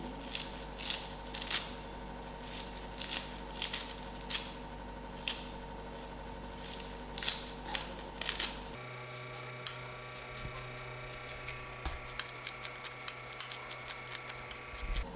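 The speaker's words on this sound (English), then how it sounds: "First I'm going to start off with my spring onions. Cut it very finely." A knife finely slices spring onions on a cutting board, producing rapid, regular crisp taps that speed up and grow sharper toward the end, close and clear without talking.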